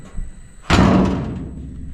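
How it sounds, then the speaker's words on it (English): A truck crew cab door under rust repair, with no door seals, slams shut once with a loud close thud that rings briefly and fades. "I have to get this door shut."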